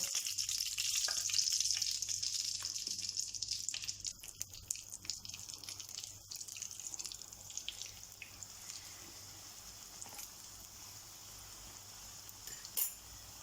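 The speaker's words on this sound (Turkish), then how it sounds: "Kızaran böreklerimi yağ içerisinden alıyorum ve yenilerini ekleyerek bu şekilde kızartıyorum." Steady crackling sizzle of börek pastries frying in hot oil, loud at first and settling lower, with a few clinks near the end.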